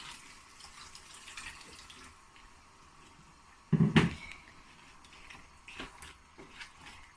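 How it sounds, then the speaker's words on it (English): Water is poured into a pot of Bangladesh-style vegetable curry in one short, loud splashing burst midway through. Quieter kitchen background comes before and after it. "I'm going to add some water"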